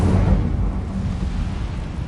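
Incendio fire spell cast in the game Hogwarts Legacy, heard as a deep, loud rumbling roar of flame that starts with a heavy burst and carries on as a dense, crackling low growl.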